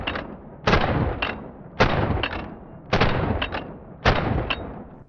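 Four loud, sharp shotgun blasts from an Orthos Raider S4, a Benelli M4 clone, spaced about a second apart, each with a short echoing decay and no talk.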